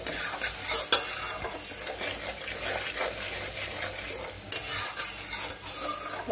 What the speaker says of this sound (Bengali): এগুলো দিয়ে ভালো করে এখন আমি মশলাটাকে কষিয়ে নেব।